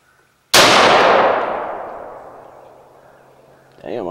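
One loud M4 rifle shot rings out at an outdoor range during sighting in, a sharp crack with a long fading echo, followed by a voice starting at the end.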